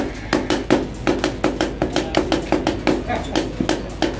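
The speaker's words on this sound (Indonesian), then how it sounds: "proses penempaan." A traditional Javanese blacksmith hammers steel during forging, with a steady run of ringing metallic blows landing roughly every quarter second, close and clear, joined by some faint background voices.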